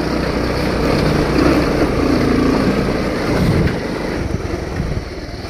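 A motorcycle with a suspected failed shock absorber rides along a slippery muddy dirt road, its steady engine drone mixed with wind buffeting the microphone, loud and continuous throughout without speech.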